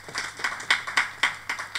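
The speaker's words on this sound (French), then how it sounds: "Applaudis pour toi-même." A church congregation claps in a quick, even rhythm, about eight sharp hand claps close together, with no voices over them.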